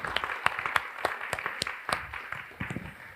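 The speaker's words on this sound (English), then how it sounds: "So I want to give them a round of applause now too" An audience at a community event breaks into scattered applause, with quick, uneven claps at moderate distance that stay fairly soft and steady throughout, with no voices.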